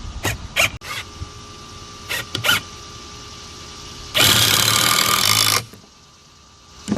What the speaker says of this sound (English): go ahead and shoot you some screws in